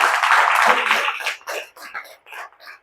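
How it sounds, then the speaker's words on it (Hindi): A church congregation breaks into clapping that starts as a dense burst of applause and thins into scattered, separate claps over a few seconds. "एक अच्छी ताली परमेश्वर को मिलनी चाहिए।"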